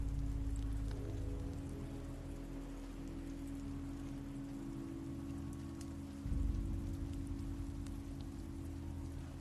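Rain in The Walking Dead video game by Telltale, a steady patter of drops on surfaces over a low background hum, fairly quiet, with a brief low rumble partway through.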